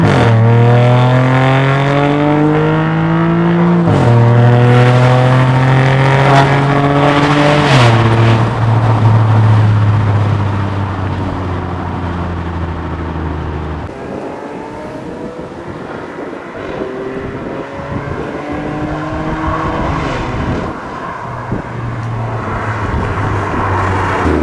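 Audi A5 3.2 V6 (8T3) engine accelerating hard and loud during a pull, its pitch climbing through several gears with brief drops at each shift, then easing off into quieter rumbling.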